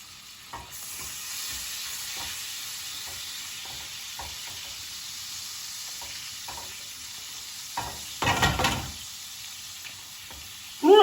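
Çökelek cheese curd sizzles softly in a pan with a steady low hiss, while a utensil stirs and scrapes in scattered knocks; a louder rustle of stirring comes near the end.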